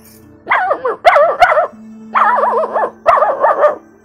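A human voice imitates a small dog's yappy barks, several quick high yips in short bursts with brief pauses between.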